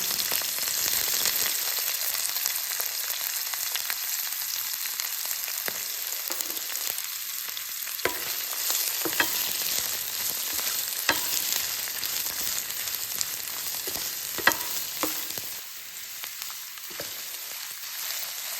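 Capsicum sautés in hot oil in a pan, a steady crackling sizzle with occasional scraping stirs of a spoon, close and continuous without any talking.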